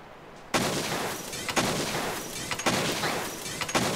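Light bowgun shots in Monster Hunter 3 Ultimate on Wii U: a loud burst of gunfire after a short quiet start, then three more dense volleys at roughly one-second intervals, each with a crackling tail.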